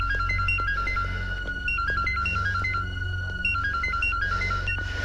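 A phone is dialed with a rapid run of beeping keypad tones, followed by a repeating electronic ring, all over a steady low hum and background music.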